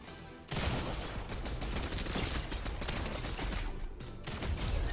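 A house is torn apart in Fortnite with a dense, continuous roar of breaking and crashing debris. It starts abruptly after a short lull and stays loud and sustained throughout.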